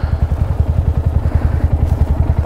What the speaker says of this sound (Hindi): कोल्ड स्टार्ट हो गई अपनी बाइक